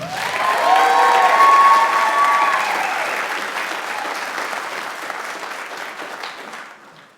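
A live audience at a DEBx talk event applauds to welcome a speaker to the stage, with a full burst of clapping that peaks early and then gradually tapers off to silence.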